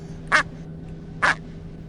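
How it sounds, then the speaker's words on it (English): Two loud, short duck quacks sound close by, evenly spaced about a second apart, against a quiet steady background hum. "you're beginning to upset Captain Duck"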